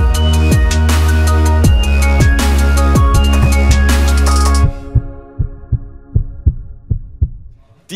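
Heartbeat sound effect opening a podcast intro, a steady series of deep, thumping lub-dub pulses under a loud swelling music bed that cuts out midway, leaving the beats alone and more exposed.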